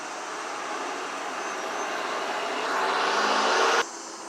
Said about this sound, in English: These trucks are really pissing me off.